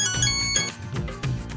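A mobile phone ringtone chimes in bright repeating tones on a wife's phone in a Pakistani sitcom home scene, ringing briefly over a busy background bed.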